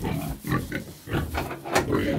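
Several pigs grunt and snort close by in a barn, a string of short rough grunts with uneven pauses between them.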